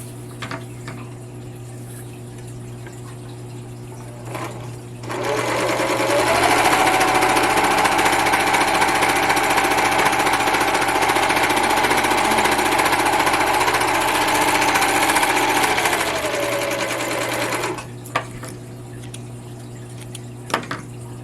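A Toyota 6600 serger stitches and trims fabric in one continuous, fast, buzzing run of about twelve seconds, starting and stopping cleanly, with quiet room hum before and after.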